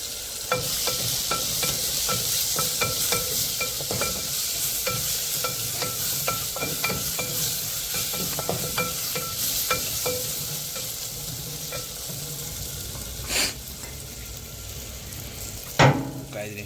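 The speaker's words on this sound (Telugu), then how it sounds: "ఒక కప్పు టమాటాలు, 4 టమాటాలు చిన్న చిన్నవి కట్ చేసుకొని వేసుకోవాలి." Chopped tomatoes fry in a pan for a mutton curry, a steady sizzle under regular scraping stir strokes, with a couple of louder knocks and clatters near the end and no talking.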